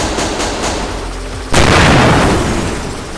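Loud gunfire and explosions from the video game Execute: a run of rapid shots, then a heavy blast that swells into a sustained roar of bursts, close and dense throughout.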